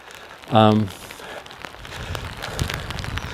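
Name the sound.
rain at Stonehenge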